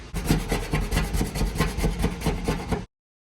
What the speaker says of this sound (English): I'm gonna attempt to scrape off this red pinstripe with this right here.